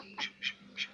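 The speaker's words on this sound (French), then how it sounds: "Ici j'ai encore un couple de colverts" Three short nasal quacks from a pair of mallard ducks, spaced evenly apart, close by and fairly clear against a quiet background.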